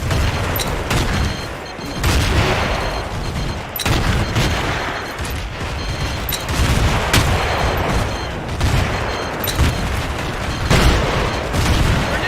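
Battlefield 2 battle sounds: a grenade blast amid dense gunfire, with repeated sharp shots and booms over a constant rumbling backdrop, loud and continuous.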